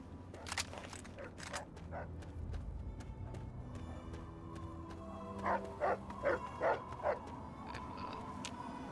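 Dog barking in the video game Fallout 3, a run of several sharp barks and yips, then a rhythmic burst of five louder barks near the end, fairly close with some background ambience.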